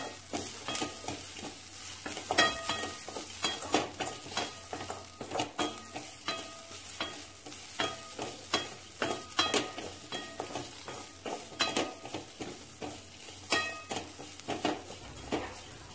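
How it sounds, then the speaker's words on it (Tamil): Grated coconut lightly roasts in a pan for a spicy Madurai chicken curry, with a quiet, steady sizzle and soft scraping stir strokes and occasional utensil taps, no voices. "தேங்காவை இதிலேயே போட்டு ரொம்பவும் வறுக்க வேண்டாம் சும்மா லைட்டாக"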